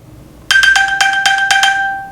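An iPhone alert chime triggered from an Apple Watch ping button rings out close and clear, a rapid series of about seven bright, bell-like pulses with a sustained tone that fades away.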